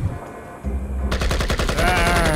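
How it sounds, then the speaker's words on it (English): Video game gunfire rattles in loud, rapid automatic bursts that build into a continuous barrage, with no voices heard. "He's just getting shot at while he's just going on this zip line."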